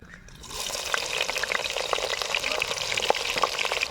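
Chopped red onion pieces drop into hot oil with fenugreek seeds and fry with a steady, close sizzle, with small crackles and pops throughout and no talk.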